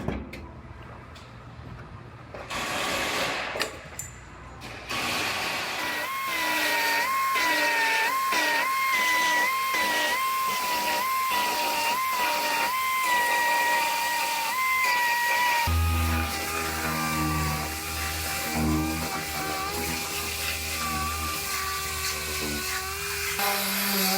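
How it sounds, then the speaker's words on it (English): A welder joins a car floor panel in a long continuous stretch, with a buzzing, crackling tone that starts after a few short bursts and holds loud and close for most of the time. "I'm gonna go ahead and I'm gonna get this floor all welded in"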